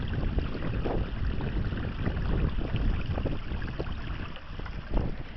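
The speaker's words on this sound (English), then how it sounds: "the wind you hear is actually cold enough to make my fingertips start feeling cold" Cold February wind blows steadily outdoors, buffeting the microphone with a loud, continuous rumble and gusty roar.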